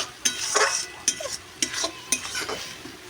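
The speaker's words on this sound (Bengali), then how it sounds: "ঝিনুক রান্না করছে ঝিনুক" Clams are cooking in a pan, with a spoon scraping and clinking against the metal in several separate strokes over a soft background sizzle.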